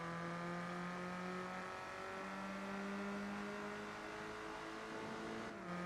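A race car in the Gran Turismo 4 video game drones along with a sustained, steady engine tone whose pitch shifts slightly as it holds speed, heard alone and fairly quiet.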